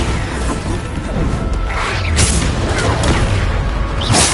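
Bombarda blasting spell explosions in the Hogwarts Legacy video game, a dense run of loud booming blasts and crashing bursts that stack up over one another, with sharp whooshing impacts near the end of the spell-casting battle.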